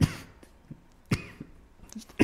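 A man coughs during a live broadcast talk, with several sharp, close bursts spaced about a second apart and quiet in between.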